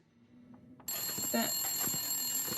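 A single telephone ring in The Long Dark sounds once inside a quiet cabin, a bright electronic tone starting abruptly and holding steadily over low background ambience, with no talk.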